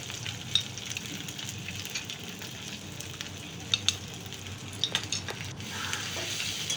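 Ground cumin, coriander, red chilli and turmeric are stirred in a hot pan, a steady close sizzle with intermittent scraping and a few sharp clicks of the spoon against the pan.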